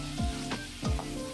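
Cauliflower frying in a pot for vegetable biryani gives a steady close sizzle, broken by two deep scraping stirs of a spoon against the metal; no talking.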